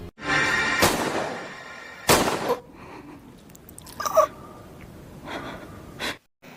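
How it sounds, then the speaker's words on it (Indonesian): Gunshots in a mystery film as Nami shoots the villain Junyung: two loud sharp bangs close together, followed by quieter breathing and faint scattered sounds. "Nami dengan ekspresi dingin menembak Junyung hingga membuat penjahat itu mati di tempat"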